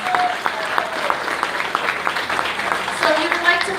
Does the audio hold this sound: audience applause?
yes